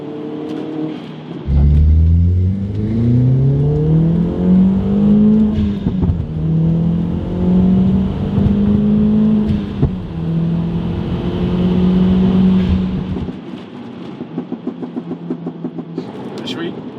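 A mapped Mk1 Audi S3 revs hard on a downshift, the engine note climbing and then holding a loud, close drone for several seconds before dropping away to a quieter idle.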